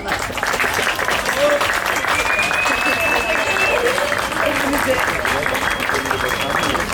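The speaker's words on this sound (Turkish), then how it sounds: "Alkış tutsun." Steady applause from an audience fills the whole stretch, dense clapping at an even level without letting up.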